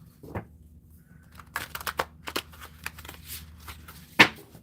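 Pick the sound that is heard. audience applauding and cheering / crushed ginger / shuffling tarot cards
shuffling tarot cards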